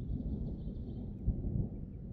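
Thunder from a moderate thunderstorm in Isère, France, in May: a deep, continuous low rumble that rolls on throughout, with a heavier crack-like swell about midway, and no voices.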